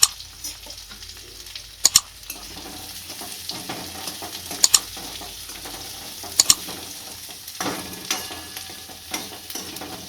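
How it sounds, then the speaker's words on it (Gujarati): Chopped green chillies and onions sauté in a pan with whole cashews, a steady sizzle broken by a few sharp utensil scrapes and taps against the pan. No one speaks. "2 મરચી કાપેલી નાખીશું। 2 કાંદા કાપેલા નાખીશું અને આપણે સારું શેડવી લઈશું"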